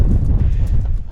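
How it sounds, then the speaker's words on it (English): Strong wind buffets the microphone in low, rumbling gusts on a hilltop in the Libyan Sahara, with no voices heard. "Definitely gets more windy up here."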